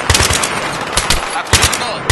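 Enemy machine gun fire rattles in the video game Battlefield 3, loud and close, with rapid bursts of overlapping shots packed into a couple of seconds.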